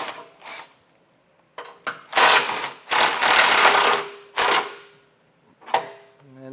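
A socket wrench with a 15mm socket backs bolts out of the bumper beam of a 2014 GMC Acadia, loud close bursts of rapid ratcheting whir separated by short silent pauses.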